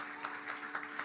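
A church congregation applauding during a service, a faint, steady patter of many hands with soft swells roughly every quarter second, distant and low in level.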